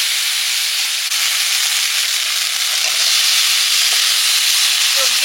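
Ginger paste frying in a pan as a splash of water goes in for a fish curry, a loud close steady hiss of sizzling that holds unbroken throughout.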